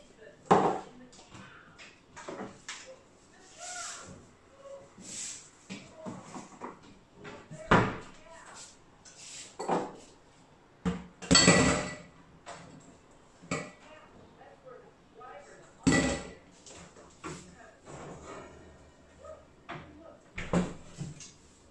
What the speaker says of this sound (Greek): Φτιάχνω ρύζι για μένα και πατάτες τηγανιτές για τον Νίκο